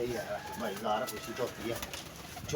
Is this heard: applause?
no